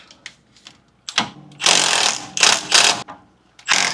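A stubby ratchet works a 14 mm bolt on a sway bar bracket of a Lexus GX460, giving several close, rapid bursts of ratcheting clicks separated by brief pauses.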